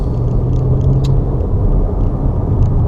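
A 2020 Shelby GT500 driven slowly in automatic mode, giving a steady, loud low engine rumble and road noise from inside the car, with no talking.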